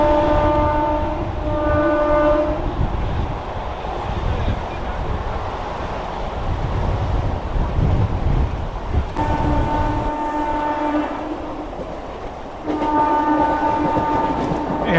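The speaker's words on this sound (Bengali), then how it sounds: "আমাদের ট্রেনটা এখন বালি ক্রস করছে" A local train on the Barddhaman–Howrah Chord Line rumbles steadily along the tracks near Bally with a dense, continuous roar, and a long horn blares in sustained tones near the start and again toward the end.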